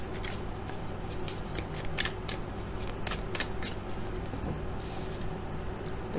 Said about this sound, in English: Let's draw a few more tarot cards.